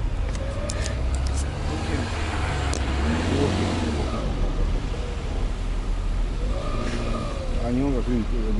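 A car's engine hums and pulls away in a steady, close drone during a road trip, with people talking over the motor noise.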